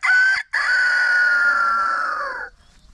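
A voice imitates a rooster-pig crowing: one short loud call, a brief break, then a long sustained crow that fades off, close and on its own.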